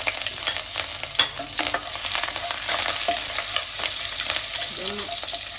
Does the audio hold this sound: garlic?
yes